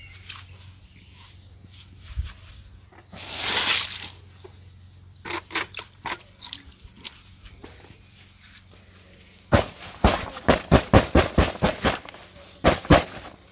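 Water splashed onto Simms Gore-Tex waders after a waterproofing refresh, heard as a quick run of close, sharp splatters and patters, preceded by a softer spray-like hiss and scattered small knocks.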